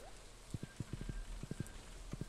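A horse's hooves clip-clop in a steady walking rhythm in Stardew Valley, evenly paced, soft and close, over a quiet game background.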